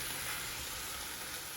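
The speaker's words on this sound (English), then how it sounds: "So this is me putting the meat in the pan" Meat sizzles in a pan with butter, a steady soft crackling fry heard close and alone for a brief moment.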